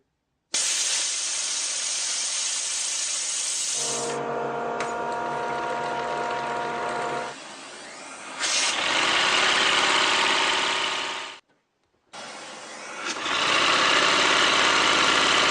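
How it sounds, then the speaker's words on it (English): Wooden-cylinder air engine running on compressed air, a loud continuous hiss with a rapid mechanical chatter, interrupted by a few pauses and changes of pitch, close up. "here I'm actually using the air engine to pump air to power the other air engine"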